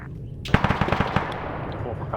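A rapid burst of video game automatic gunfire, about a dozen close, punchy shots in quick succession, ringing out into a lingering echoing tail.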